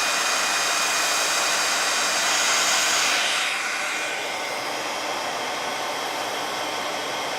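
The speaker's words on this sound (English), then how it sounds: "I'm just going to hit it with my heat tool." A handheld craft heat tool blows a loud, steady rushing whoosh while melting embossing powder on a holiday card, its tone shifting and easing slightly partway through.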